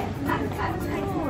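A dog barks and yips excitedly a few times inside a shop, partly buried under ongoing chatter and store background noise.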